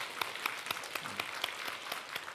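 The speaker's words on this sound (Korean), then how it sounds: "앞으로 잘 회복되라고 우리 격려하는 마음으로 박수 한번 하겠습니다" A church congregation at Sunday worship claps softly in encouragement, a modest spread of hands with a few sharper claps landing at a steady pace.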